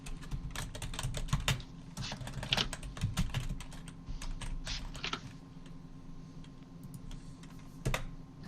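Rapid keystrokes on a computer keyboard clatter steadily and close by for several seconds, the clicks coming in uneven bursts over a low background hum.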